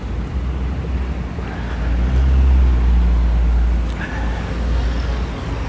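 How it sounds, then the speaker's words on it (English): Light Sunday street traffic in Makati, Metro Manila: a steady low rumble of passing cars and engines, swelling as a vehicle goes by nearby, then easing back to a constant drone. "it's Sunday, so the traffic is not that bad, but Manila is known for bad traffic"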